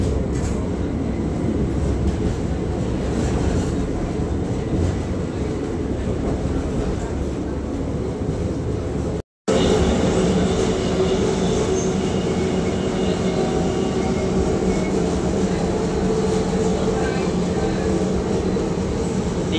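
Train ride near Trenčín, Slovakia, heard from inside the carriage: a loud, steady rumble of wheels and rails with faint squeals, continuous apart from a brief cut partway through.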